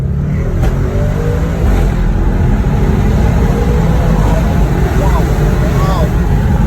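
Audi RS6 launching hard, engine revving and pulling up through the gears, a loud continuous roar heard from inside the car with a person speaking over it.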